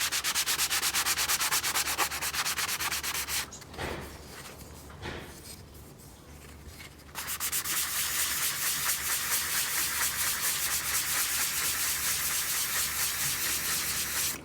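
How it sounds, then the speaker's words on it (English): Hand sanding of a spalted wood coaster cut from firewood, using 220 grit sandpaper: a steady, close scratchy rubbing in quick back-and-forth strokes, pausing briefly partway through before resuming just as continuously. "I think this is a 220. That might take a little bit more."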